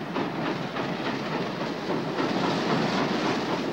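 A work train runs on temporary rails during the building of the Panama Canal, giving a continuous, dense rumble and clatter with steady hissing noise and no pauses.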